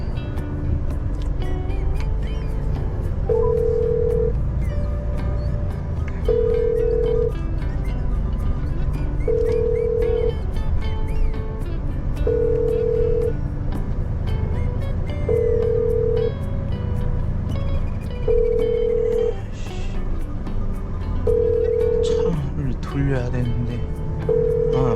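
Telephone call ringing out unanswered from inside a Korean truck cab, evenly spaced ringback tones repeating about every three seconds over a loud engine rumble.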